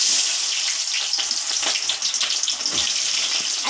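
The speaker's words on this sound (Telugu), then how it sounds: "నూనె అయితే బాగా వేడైంది అలాగే నేను పొడువుగా ఒక 5-6 పచ్చిమిర్చి కోసినాను ఇప్పుడైతే ఉల్లిగడ్డలు వేస్తున్నా" Onions and green chillies go into very hot oil and fry with a steady, close hiss and sizzle that crackles on and off throughout. No one speaks.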